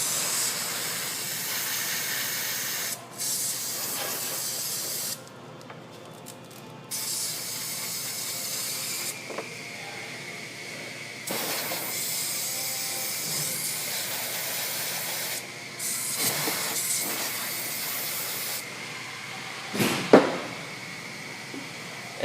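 Brake cleaner is sprayed from an aerosol can onto corroded car battery terminals in long, loud hissing bursts separated by short pauses, with a few faint clicks and a brief knock near the end.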